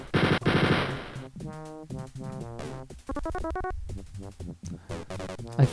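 Rapid gunfire in a video game sewer and castle level, a loud opening burst followed by overlapping electronic shots and bright tonal effects that continue in clusters.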